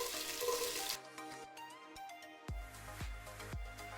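Onions dropped into a hot, smoky soup pot on low heat, a bright sizzling hiss that falls away after a second, followed by a few light clinks and scraping stirs.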